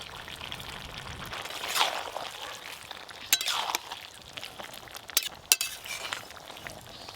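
A spoon stirs hilsa fish curry with kohlrabi stems in a pan, giving soft scraping and a few sharp clinks against the metal, fairly quiet and intermittent with no voices.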